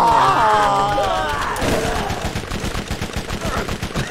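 Gunfire rattles in Borderlands 1, starting after a loud shouted voice and continuing as rapid, steady automatic shots close up.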